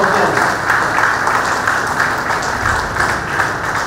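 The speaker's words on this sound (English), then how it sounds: "So please give them a good round of applause." Steady, even audience applause at a college graduation ceremony, a dense sustained clapping wash heard from within the hall with no voices over it.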